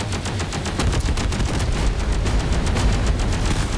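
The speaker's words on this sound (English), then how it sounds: "Oh, we are now taking fire." Sustained rapid gunfire in the Space Engineers video game, a dense, loud barrage of overlapping shots and impacts filling the whole stretch without pause.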